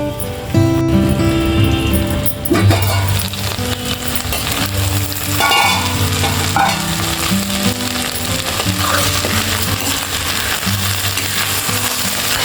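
Okra and coconut fry in a pan in Andhra style while being stirred, giving a loud, continuous sizzle with intermittent scraping, over background music.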